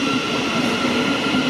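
Thameslink Class 707 electric train at Peterborough station, a loud continuous rumble with steady tonal whine from the passing train, heard close and without voices.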